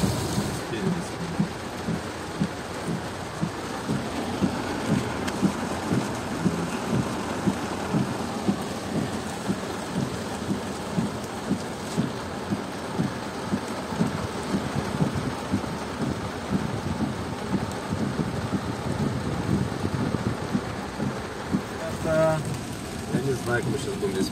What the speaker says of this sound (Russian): Дождик не обещали, называется.